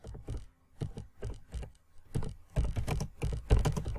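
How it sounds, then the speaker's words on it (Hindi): Clicky computer keyboard typing in short bursts, keys tapped in quick clusters with brief pauses, close and fairly quiet, no voices. "अब टाइप करते हैं"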